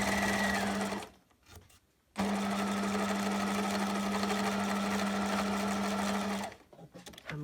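A sewing machine stitches a faux leather purse, running steadily in two long close bursts with a short pause between, its motor hum loud and even, with no voices.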